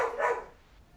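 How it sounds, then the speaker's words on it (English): A single short dog bark, faint and somewhat distant, fading quickly into quiet. "the dogs are barking. Dogs are barking."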